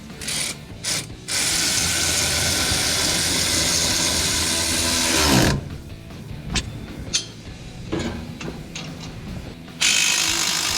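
A 15mm ratchet snugs down exhaust clamps on a 2019-2022 Silverado 1500 5.3L Flowmaster dual exhaust system, giving long bursts of rapid close clicking separated by short pauses.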